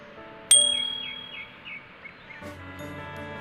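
A single bright electronic ding strikes sharply and rings out with a slowly fading tone, followed by a few soft chirp-like tones and a low hum, with no voices.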